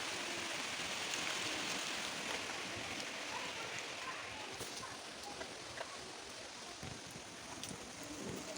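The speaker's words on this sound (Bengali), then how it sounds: "দেখো বৃষ্টি পড়তেছে" Steady rain falls outdoors at a home, a soft continuous patter spread evenly across the whole stretch, fairly faint and distant with no voices over it.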